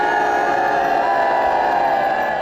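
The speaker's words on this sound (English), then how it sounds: "The only negative moment was when protesters were loudly booed." A large outdoor crowd lets out a loud, sustained wall of voices aimed at protesters, a steady roar of booing and shouting with no breaks.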